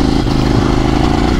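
Kove 800X Pro adventure motorcycle engine held under steady throttle, a continuous close mid-pitched engine drone with mechanical clatter, loud and alone throughout the short stretch.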